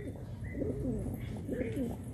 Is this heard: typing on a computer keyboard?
no